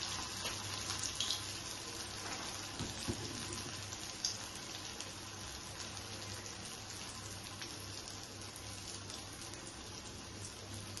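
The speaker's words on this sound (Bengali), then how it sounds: "এখন আমি একটা একটা করে, তেলটা গরম হয়ে গেছে, এইভাবে করে ফ্রাই করে নেব।" Soybean koftas dropped one by one into hot oil fry with a continuous, quiet, hissing sizzle and scattered light crackles throughout, with no one talking.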